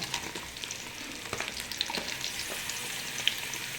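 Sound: biryani ingredients roasting and frying in a pot

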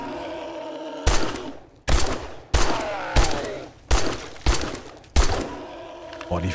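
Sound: pipe machine gun firing in Craft Until You Die video game

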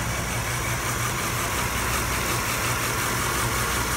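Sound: 1991 Cadillac DeVille 4.9 liter V8 engine running

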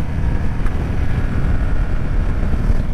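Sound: wind from a passing motorcycle

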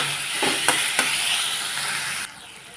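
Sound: tomatoes cooking in a pan for pasta

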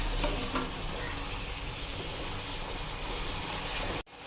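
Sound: tomatoes and mint sautéing in a pan

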